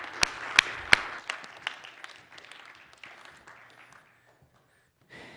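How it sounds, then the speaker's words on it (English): An audience claps for Jeff: a few sharp, loud individual claps up front, then scattered lighter applause that thins out and dies away to near silence. "Let's give Jeff a big round of applause,"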